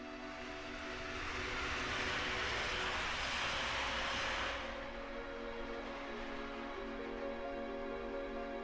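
Train running in Final Fantasy VII, a steady loud rumbling roll with a bright hissing wash that fades after about four seconds, leaving a droning hum with no voices.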